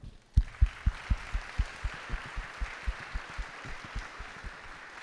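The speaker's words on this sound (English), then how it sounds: "So maybe let's applaud you for this great event and all the volunteers and people around here." Audience at the opening of the DefCamp 2025 security conference clapping steadily in unison, a regular beat of sharp claps, loudest at the start and easing slightly, over a faint hall hum.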